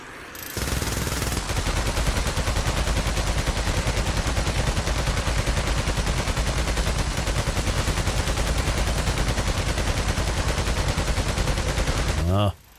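Sustained automatic gunfire poured into a horde of freakers in Days Gone Remastered on PS5 Pro. A loud, continuous stream of rapid shots runs for about eleven seconds before cutting off abruptly.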